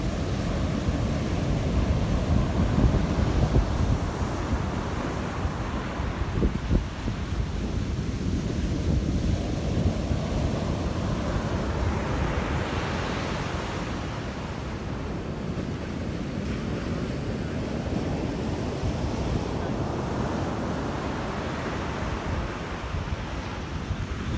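Rough, stormy sea with waves crashing continuously under strong wind, a loud, close, roaring wash of surf with microphone wind buffeting and no voices.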